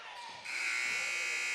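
Basketball game buzzer at the end of a half in an alumni game, a loud sustained electronic tone that starts abruptly and holds steady over faint gym ambience.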